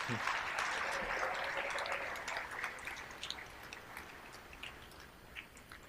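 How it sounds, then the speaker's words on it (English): Applause for a graduating class at a school event, a fairly quiet crowd clapping that starts fuller and gradually thins into scattered claps, with some speech in the room. "Let's give them a huge round of applause."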